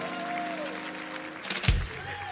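Church congregation applauding at a Sunday service, a steady wash of clapping mixed with a voice speaking over it and a brief thump near the end.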